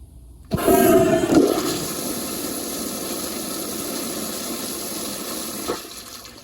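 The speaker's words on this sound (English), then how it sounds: "now I'm gonna do even more close-up of a flush like this, so y'all can see the siphon jet" Kohler Primary toilet flushing with a siphon jet, heard close up: a sudden loud rush of water that surges for about a second, then settles into a steady draining roar with a brief gurgle near the end.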